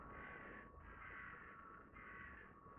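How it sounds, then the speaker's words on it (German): Parrots give harsh, raspy squawks in three drawn-out bursts with short gaps between them. The calls are near and fairly loud against a quiet background. "Oh, meine Papageien."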